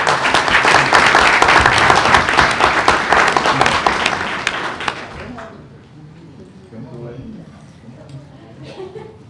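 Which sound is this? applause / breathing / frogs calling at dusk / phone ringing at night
applause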